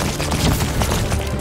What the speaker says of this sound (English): those red things are explosions